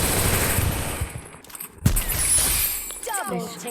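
Sniper fire in a ranked Counter-Strike match, sharp gunshots and bursts of game gunfire layered under a voice speaking, with one loud crack standing out near the middle.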